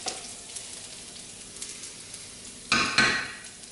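Garlic gently frying in a pan with parsley, softening toward golden as a base for pasta e fagioli, a quiet steady sizzle followed by two brief louder bursts of stirring near the end.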